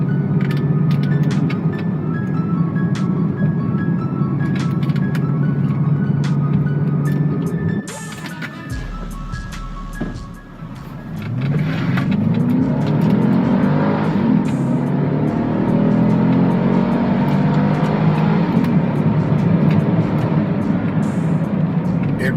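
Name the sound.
Acura NSX supercar accelerating through canyon roads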